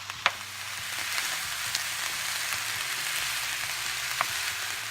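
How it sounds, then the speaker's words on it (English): Ground meat and bell pepper browning in a pan, a steady close sizzle with a few sharp pops and crackles, no voices. "you'll just want to cook these up together until the meat is cooked all the way through"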